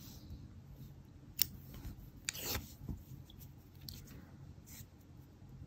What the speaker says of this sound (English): cut the yarn for sewing,